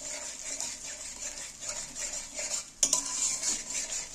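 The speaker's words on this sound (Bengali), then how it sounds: "এবার আমি এই তেলের মধ্যে মশলাগুলোর সাথে ভালো করে মিক্সড করে নেব।" Eggs stirred into spiced oil in a pan, a spoon scraping and clinking against the metal in an uneven rhythm over a faint sizzle, with one sharper knock near the end.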